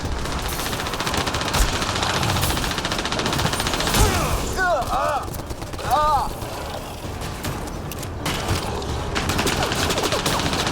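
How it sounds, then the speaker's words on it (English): Video game battle gunfire, dense rapid bursts of automatic weapons rattling continuously and loudly up close, with shouting voices heard over the shooting. "Just keep firing, we can do this!"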